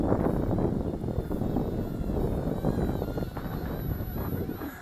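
Gusty wind buffets the microphone on a blustery day outdoors while a WLToys XK A150 Boeing 747 RC model plane flies. A steady low rumble with uneven gusts dominates, and a faint thin whine sits high above it.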